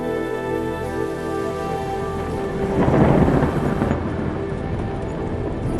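Monsoon rain falls steadily while a low rumble of thunder swells near the middle and then fades, all over a sustained, tonal background.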